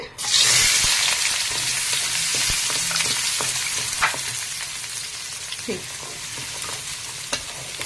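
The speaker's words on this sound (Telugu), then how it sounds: "ఆనియన్స్ వేసుకుంటున్నానండి. ఆయిల్ వేడెక్కుంది." Chopped onions hit hot oil in a pan for pav bhaji and burst into a loud, bright sizzle that slowly eases into a steady fry. Occasional spoon knocks and stirring scrapes sound close by.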